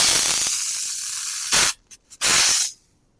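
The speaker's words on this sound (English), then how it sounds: "Then after that I'm ready to inject the chemical" Pressurized hissing spray of DPF cleaning chemical injected into a blocked diesel particulate filter on a VW Amarok, a long steady jet followed by short bursts and a final sustained blast, close and loud with no talking.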